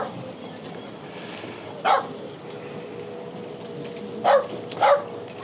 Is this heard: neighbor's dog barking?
yes